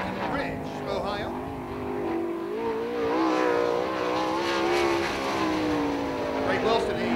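An All-Star sprint car at Attica Raceway Park rolling out onto the speedway, its engine droning and rising in pitch with rough revving under a loud announcer's voice over the PA.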